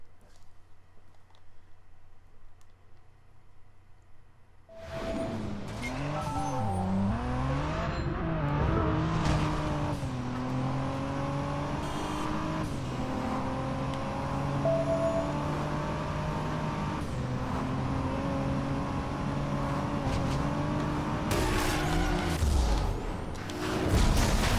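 Racing cars in the Driver: San Francisco video game start up and accelerate hard, engines revving and rising in pitch through gear shifts. The loud, steady engine drone goes on for about twenty seconds after a quieter opening.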